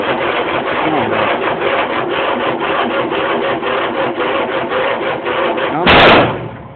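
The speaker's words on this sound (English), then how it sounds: "we'll try cranking it again" An old engine cranks over on a cold spring start, the starter grinding in a steady rhythmic churn that runs loud and unbroken for several seconds before a sharper, louder burst near the end.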